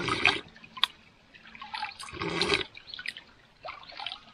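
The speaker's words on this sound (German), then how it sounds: "Ich werde gleich schon wieder erstmal den Fluss saufen." River water trickling and splashing as a survivalist drinks straight from the river in the wild, with soft irregular close bursts of liquid sound over quiet outdoor background.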